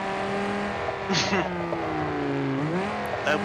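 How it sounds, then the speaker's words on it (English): A V10 car engine in the BeamNG.drive video game drones loud and steady, with pitch dipping and climbing as the car shifts and revs, and brief tire squeals over it. "listening to that engine, which is rather loud, but it's a great sound. Yeah, it's the nice clean, I believe it's a V10."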